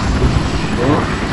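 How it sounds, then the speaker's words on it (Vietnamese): Aircraft in the Battlefield Vietnam video game give a loud, continuous rotor-like engine drone with a low throbbing texture, with someone speaking over it. "Đây máy bay."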